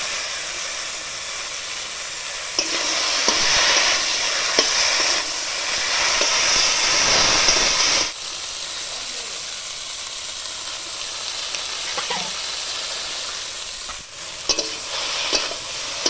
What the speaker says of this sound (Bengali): এবার আমি বেটে রাখা লঙ্কা আর জিরেটা দিয়ে দিচ্ছি।